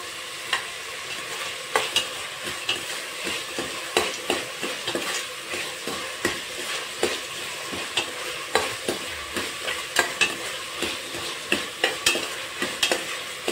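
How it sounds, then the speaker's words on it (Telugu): Sliced onions frying in hot oil for mushroom biryani, a steady sizzle broken by regular scraping stirs of a spatula against the pan, close and even in rhythm with no voices. "కొంచెం గోల్డెన్ కలర్ రావాలి, వచ్చేంత వరకు వేయించుకోవాలి ఆనియన్స్ అనేది"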